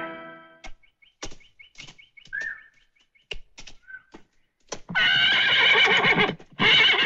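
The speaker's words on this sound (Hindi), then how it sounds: "आपका घोड़ा तैयार है" A horse whinnies loudly near the end in two long neighs, after scattered hoof clops and faint bird chirps, with no talking.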